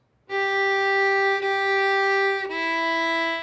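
Violin playing Essential Elements Book 1 exercise 21, three sustained bowed notes in a row with a bright, rich overtone-filled tone, close and loud, with no voice.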